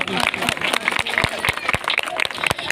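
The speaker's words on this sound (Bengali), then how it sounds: "তিনটে গ্রুপের জন্য একটি দর্শকের কাছ থেকে একটু জোরে করতালি চেয়ে নেব" Audience clapping at a dance academy competition, a dense burst of applause with crowd noise, sustained and fairly loud throughout.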